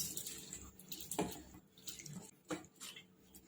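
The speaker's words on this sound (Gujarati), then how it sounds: "હવે એની અંદર પાણી એડ કરીશું અને ધોઈ લઈશું 2-3 પાણીએ એને સરસ" Moong dal lentils are rinsed in water in a kitchen bowl, giving quiet, intermittent swishes and small splashes with no talking.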